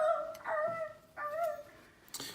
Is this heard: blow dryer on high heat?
no